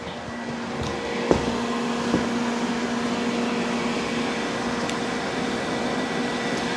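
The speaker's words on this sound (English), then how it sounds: "it is quite noisy, so what I'll do is I'll wait for it to inflate and I'll show you it working" Automatic ironing machine inflating a hung garment with air, a steady blower-like roar holding at an even level throughout, with a couple of small clicks near the start.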